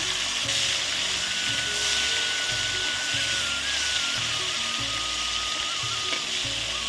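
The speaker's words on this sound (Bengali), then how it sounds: "কড়া গরম হয়ে গেছে, এখানে নুন হলুদ মাখা চিংড়ি মাছটা দিয়ে দিলাম। এখন ভেজে নেব।" Prawns coated in salt and turmeric sizzle and fry in a hot pan, a loud, dense, continuous crackle close by with no talking.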